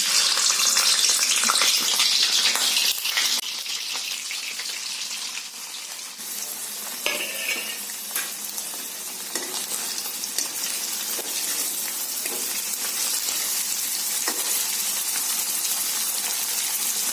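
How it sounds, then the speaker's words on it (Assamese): Homemade soft paneer fries in hot oil in a pan over a low gas flame, giving a loud, steady sizzle and crackle throughout, with occasional stirring scrapes and no talking. "এতিয়া তেল গৰম হৈ গৈছে, মই গেছটো একেবাৰে ল' কৰি দিম আৰু পনীৰখিনি ভাজি ল'ম।"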